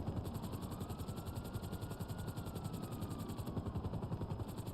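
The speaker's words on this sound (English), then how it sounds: "Helicopter." Helicopter in a video game, a steady rhythmic rotor thump with a droning engine running continuously underneath, fairly quiet and unbroken throughout.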